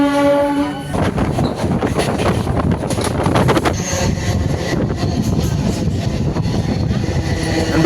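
A local EMU train runs between Sullurpeta and Chennai Central, giving a steady loud rumble of wheels and carriage noise with wind buffeting. A horn-like tone sounds at the start, followed by rattling clatter throughout.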